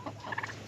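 Polish chickens on a hobby farm give a brief burst of clucking and squawking calls, fairly faint and distant, with no talk over them.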